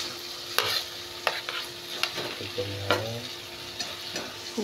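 Fried cauliflower and fried potato being stirred into a curry in a wok, with repeated sharp scraping strokes over a steady sizzle, close and moderately loud, no talking.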